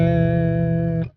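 A BOSS PS-3 digital pitch shifter on electric guitar, shifted down into the low tones, holds one thick, slightly warbly, flubbery note for about a second before it cuts off abruptly.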